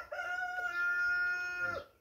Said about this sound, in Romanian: Se putea să lipsească cocoșul.